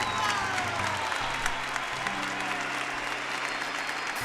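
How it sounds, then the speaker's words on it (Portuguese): A church congregation applauds steadily for Jesus, a dense, even wash of clapping held for several seconds over a low sustained musical drone. "Primeiro dando um grande aplauso a Jesus,"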